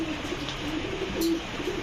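A large Syrian Adana dewlap pigeon coos in low, soft, repeated tones, held steady over a constant background hum in a pigeon loft.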